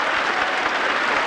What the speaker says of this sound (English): applause from his colleagues on the bench